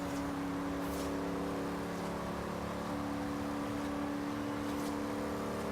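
A Chevy Camaro IROC-Z races in Forza Horizon 3, its engine holding a sustained whining drone with layered harmonics at steady high revs, loud and continuous without talk.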